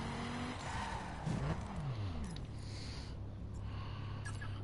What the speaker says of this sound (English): Got the Ford Focus RS. Here it is, the beauty. Even this thing sounds really good.